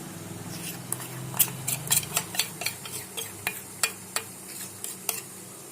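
A spoon scrapes and taps against a steel plate while spreading white dhokla batter mixed with fruit salt over a layer below, a string of sharp clinks at an uneven pace under a faint low hum.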